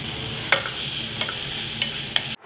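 Steady sizzling of chopped onions frying in oil in a pan, a constant hiss with a few soft clinks from stirring.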